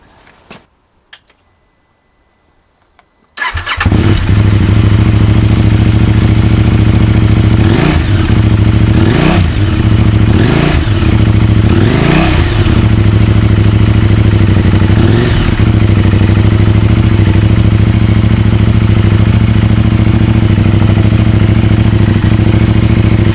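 KTM 790 Adventure motorcycle engine running without its dB killer: a short quiet start, then a loud, steady, close rumbling idle with several quick throttle blips rising and falling.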